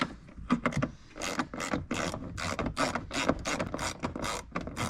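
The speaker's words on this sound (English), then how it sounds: "I've just got a little extender on my ratchet here. Just going to get those tightened up." A ratchet with an extender tightens bolts on a removable false floor in an Isuzu MU-X, making rapid, close clicking bursts in an irregular back-and-forth rhythm with no talk.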